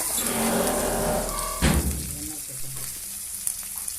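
Elephant foot yam sautéed in oil for a tangy curry gives a steady, close sizzle with a dull thump partway through, followed by quieter crackling and faint stirring.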